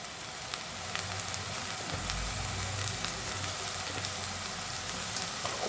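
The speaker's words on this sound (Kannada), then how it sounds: "ಈಗ ಶುಂಠಿ ಬೆಳ್ಳುಳ್ಳಿ ಪೇಸ್ಟ್ ಹಾಕೋಣ." Ginger garlic paste hitting hot oil with fried onions in a pan while cooking chicken palya; a continuous crackling sizzle, moderately close, with scattered sharp pops throughout.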